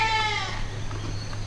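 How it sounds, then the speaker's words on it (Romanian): A goat bleats once, a loud wavering cry that trails off into quiet rustling farmyard background, with no talk. "cea mai blândă capră va rămâne blocată acolo"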